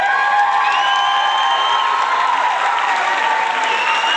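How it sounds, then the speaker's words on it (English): A crowd of students claps and cheers during a feedback session after games, steady loud applause with scattered shouts and whoops throughout. "So first of all, a big cheer."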